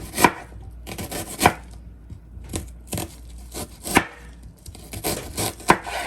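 An onion is chopped on a cutting board with a knife, about eight to ten crisp, distinct knife strikes at an irregular pace, close and clear with no talking.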